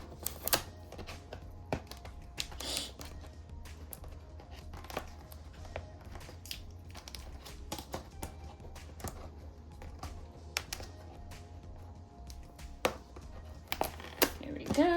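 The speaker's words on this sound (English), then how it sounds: "Trying to get the little stickers off the side." Small stickers are peeled and torn from the side of a Bandai Harumika box, giving sharp crinkling snaps and rips in an irregular run, close up and fairly quiet.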